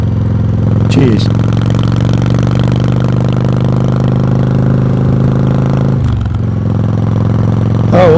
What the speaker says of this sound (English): Just a ride, some V-twin exhaust sounds, and not a whole lot of talk.